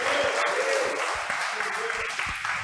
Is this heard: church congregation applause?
yes